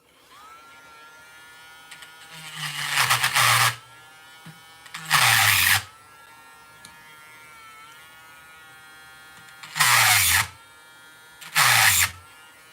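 A small power tool cuts a chamfer into a knife bolster in four short bursts of high whining buzz, each lasting a second or two, separated by quieter pauses.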